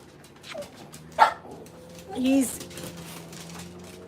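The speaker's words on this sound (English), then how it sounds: "They're all in here barking and getting excited." Several dogs in a room bark and whimper excitedly, with a couple of short yips standing out amid steady background hum and nearby voices.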